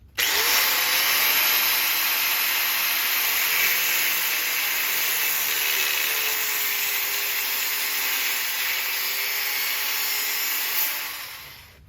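An abrasive cutoff wheel slices through a steel horseshoe in one long, loud, steady high-pitched grinding whine that winds down at the very end.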